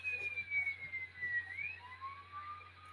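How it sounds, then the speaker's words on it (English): A siren tone transmitted over a CB or ham radio channel, a faint wailing pitch that sweeps slowly down and then rises, heard through hissy, low-level radio static with a steady background hum. "There's somebody playing a siren going on 395 right now."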